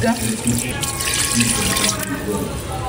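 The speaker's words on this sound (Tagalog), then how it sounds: "Ito po ay lalagyan na po natin ng tubig." Water splashes steadily from a tap into a pot of chicken being made into tinola, a continuous close gush with faint drips, while voices talk over it.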